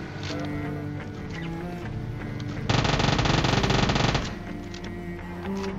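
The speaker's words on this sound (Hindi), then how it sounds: "मैं उस पर गोली चलाने लगता हूं" Rapid automatic gunfire in PUBG Mobile bursts out for about a second and a half amid busy game sounds, loud and close, then stops abruptly.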